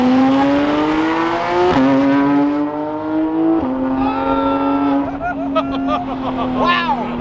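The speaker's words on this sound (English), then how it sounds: "The downshifts are so good." A Porsche GT3 RS engine howls up close and drops through several downshifts, each one marked by a sharp rev blip before the pitch climbs again, with voices faintly underneath.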